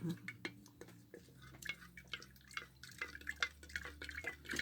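A stick stirs a batch of homemade chalk paint in a container, making soft repeated scraping and wet clicking taps, quiet and close, with light handling noises.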